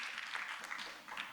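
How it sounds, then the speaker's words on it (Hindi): An audience at a vocational guidance programme applauds, producing a steady wash of clapping that stays fairly faint and distant and does not build or drop off. "इस बात पर तो ज़ोरदार तालियां होनी चाहिए।"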